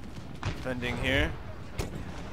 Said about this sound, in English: Cannons firing.